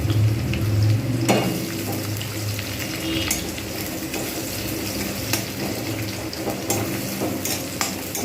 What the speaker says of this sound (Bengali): মাছের কাঁটাগুলো ভাজে হয়ে গেছে এইবার আমি এর মধ্যে পেঁয়াজ দিয়ে দেবো ওই তেলেতেই